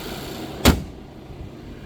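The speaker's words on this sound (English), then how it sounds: "We'll test the door close noise. Very solid for the rear door." The rear door of a 2017 Volvo S90 T6 Inscription swings shut with a single solid, deep thunk close by, then a quiet, muffled interior hush with no voices.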